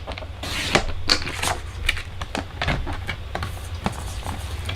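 Paper being cut for handmade card making, a series of quick crisp snips and slides spread across a few seconds at close range, with no talking.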